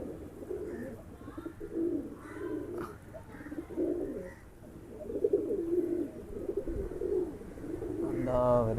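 Domestic pigeons cooing over and around a loft, low repeated coos close by, with someone talking over them.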